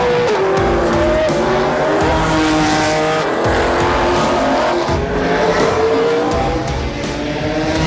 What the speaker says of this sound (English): Out on track now, we got some of the coolest cars.